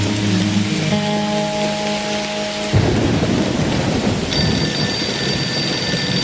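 A thunderstorm with heavy rain pours down in a dense, continuous roar while thunder rumbles low underneath. Steady tones ring faintly through the downpour.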